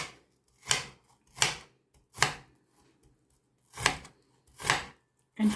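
Small onions being chopped with a knife on a board, five or six crisp, evenly spaced cuts ringing out close and clear with no talking.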